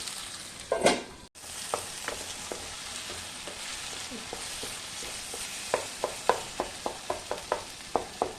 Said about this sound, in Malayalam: ഈ തക്കാളിയും കൂടെ നല്ലപോലെ ഒന്ന് വഴന്ന് വരണം.